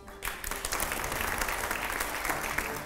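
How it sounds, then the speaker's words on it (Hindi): Loud, sustained applause from a large crowd, steady clapping that fills the whole stretch after a brief quiet start. "जोरदार तालियां जरा प्ले करिए जरा"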